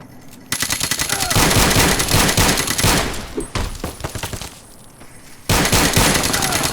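Sustained automatic gunfire from Fallout New Vegas fills most of the stretch in loud, rapid bursts, breaking briefly into quieter scattered shots before a final heavy volley resumes.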